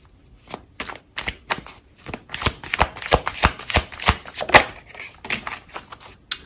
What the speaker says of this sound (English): I'm going to get a few cards from my deck here.